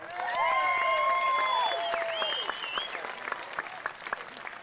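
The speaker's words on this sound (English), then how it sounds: "You got to clap loud." Loud audience clapping at a live oldies rock show, dense applause mixed with whoops and high cheering whistles early on, then settling into scattered claps.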